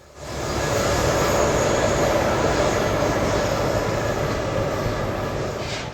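A Kansas City Southern freight train with distributed power locomotives rounds a curve, producing a continuous broadband rumble and wheel roar that holds steady and close throughout, fading only slightly at the end.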